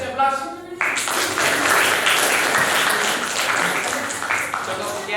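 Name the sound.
audience applause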